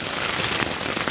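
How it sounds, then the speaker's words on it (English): Rain patters steadily on a camping tent overnight, a dense, even hiss of countless drops that stays constant and close with no talking. "Hopefully the rain is going to let up soon"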